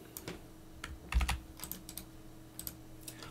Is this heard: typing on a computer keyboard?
yes